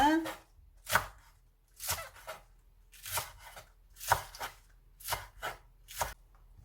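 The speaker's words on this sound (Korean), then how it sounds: "한 1cm 정도 해서 예, 자르도록 하겠습니다" A knife chops green onions into short pieces on a cutting board, with about eight sharp, evenly spaced thuds, close and clear, and no voice heard.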